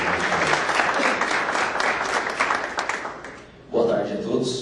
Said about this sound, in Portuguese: E nós vamos aplaudir agora o Osvaldo Zanquetin Filho.